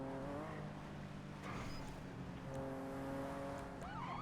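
A VSTR car in the NoPixel GTA roleplay game revs and accelerates in a steady, moderately loud engine drone, with rising tonal engine harmonics and a few brief tire chirps.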